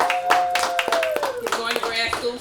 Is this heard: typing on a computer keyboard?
no